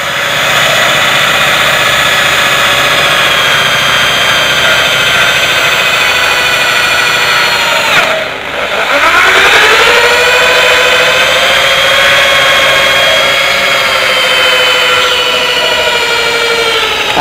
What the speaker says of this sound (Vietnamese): bây giờ mình sẽ khoan lỗ trên nữa này